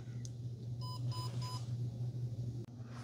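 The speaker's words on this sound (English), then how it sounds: "After 2 minutes, that's going to turn green and it's going to beep at you." A VEAMOR UV retainer disinfectant box gives three short, quiet beeps in quick succession as its cycle finishes, heard over a steady low hum.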